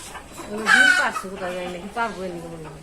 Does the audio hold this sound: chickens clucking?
yes